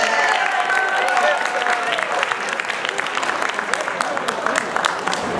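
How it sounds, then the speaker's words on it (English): Comedy-improv audience at a high school show applauding steadily throughout, dense sustained clapping with scattered cheers and a voice over the top. "Give him a big round of applause."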